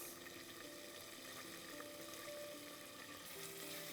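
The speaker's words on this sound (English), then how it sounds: "Once the oil is nice and hot, add the ginger garlic paste, add half the onions" Ginger garlic paste and onions fry in hot oil for a mutton frankie filling, giving a steady, close sizzle with faint crackle and occasional stirring, no voices.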